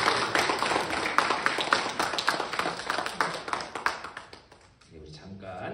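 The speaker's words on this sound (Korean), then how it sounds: "우리 환영의 박수" A church congregation at a Korean-American Sunday worship service claps in welcome, a dense burst of applause that tapers off toward the end as a voice begins speaking.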